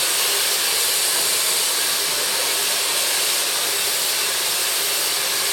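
A hair dryer blows on long curly hair drawn over a round brush from scalp to ends, a loud, steady, close airy roar with no breaks.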